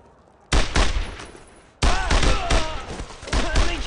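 Loud close gunfire bursts from the World War II shooter Brothers in Arms: Road to Hill 30, two dense volleys of rapid shots with a brief lull between them.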